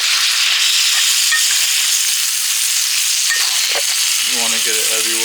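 Sauce sizzling loudly as it is basted over food in a hot pan, a steady dense crackle with a few brief clinks and scrapes of a utensil near the end.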